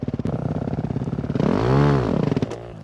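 A KTM or Suzuki motorcycle engine revs hard at race pace, a steady harmonic drone swelling into a loud rising and falling rev sweep midway before settling back, close and alone.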